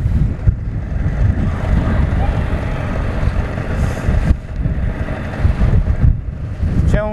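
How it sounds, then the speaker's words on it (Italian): Strong wind roars and buffets the microphone steadily throughout, a constant rushing noise with gusty swells, out on open water during a rowing race in the Gulf at Le Grazie. "C'è un vento che realmente ci rovina."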